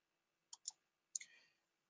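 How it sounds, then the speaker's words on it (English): A computer mouse clicks a few times in a quiet room: two quick close clicks followed by a third with a brief rattling tail, crisp and near, no talking. "So I am now clicking on the budget."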